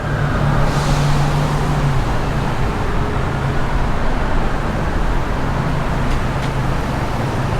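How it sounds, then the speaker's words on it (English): Steady, loud traffic roar on Kapahulu Avenue, a busy main street in Honolulu, with engines rumbling past continuously and no gaps. "Traffic is intense normally"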